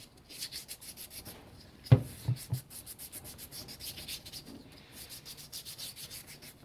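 A Scotch-Brite pad is rubbed back and forth over painted metal on a Honda XL250 under restoration, making quick, evenly repeated scrubbing strokes close up, with a brief knock partway through.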